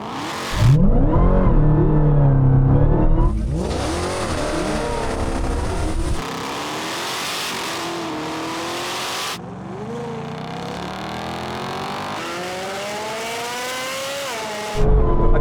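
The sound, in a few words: Corvette V8 drag race, cars accelerating hard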